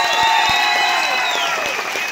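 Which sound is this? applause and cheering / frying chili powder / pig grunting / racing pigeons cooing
applause and cheering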